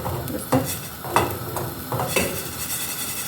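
Chicken liver being stirred in a frying pan, a soft steady sizzle with a few sharper scrapes and clinks of a utensil against the pan, close and fairly quiet with no talking.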